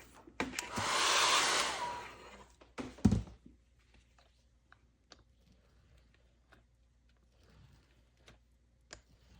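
A hair dryer or heat tool blows steadily for about two seconds while drying mixed media paint on a canvas, followed by a few clunks and light ticking handling noises in a quiet room.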